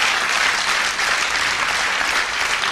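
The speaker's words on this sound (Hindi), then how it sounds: "तालियां बजाइए जोर से" Loud, dense applause from a large audience at an ISKCON devotional talk in Delhi, a steady wash of many hands clapping without pause, close and full.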